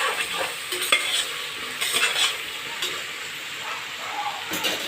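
Food for a mutton biryani fries in a pan with a steady, soft sizzle and hiss, punctuated by intermittent scraping stirs of a utensil against the cookware.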